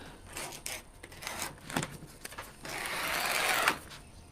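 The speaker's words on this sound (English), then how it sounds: "So right now I'm going to be using the cutter tool right here with the double cut" Vinyl wrap on a promotional mini fridge being cut with a double-cut cutter tool, giving several short scraping strokes followed by a longer steady hiss of blade drawn across the film, close and fairly quiet.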